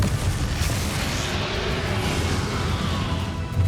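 A Confringo spell explodes in Hogwarts Legacy, a loud booming blast with sustained low rumble and crackling debris over a busy fight din.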